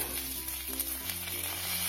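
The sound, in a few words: crushed garlic frying and sizzling in a pan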